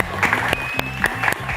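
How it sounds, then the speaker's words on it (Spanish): Studio audience applause at a Spanish-language Bible quiz show, a brief burst of clapping with music and tones running underneath. "Un fuerte aplauso"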